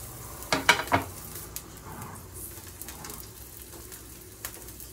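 Yakisoba ingredients frying in a pan with a soft steady sizzle, a few sharp clatters of a utensil stirring near the start, and a quiet kitchen background.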